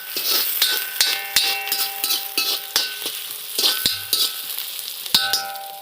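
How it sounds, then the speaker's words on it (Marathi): Onion and chilies fry in hot oil in a wok, with a metal spatula clanging sharply and repeatedly against the pan over a soft, steady sizzle. "कांदा असा लालसर होईपर्यंत आपल्याला परतून घ्यायचा आहे."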